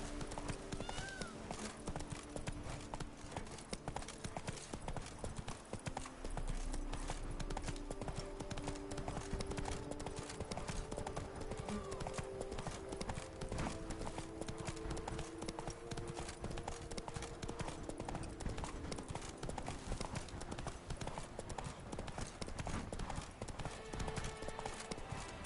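Roach the horse trotting in The Witcher 3, a steady clip-clop of hooves running continuously for the whole stretch, mid-level under game music and ambience with occasional voices.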